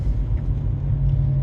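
A Mercedes SL 550 engine drones low and steady from inside the car as it gears down, a close, even rumble with no sharp revs.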